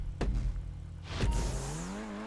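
A Taipan sports car engine in GTA V Online revs sharply twice, then settles into a rising, steady drone as the car pulls away.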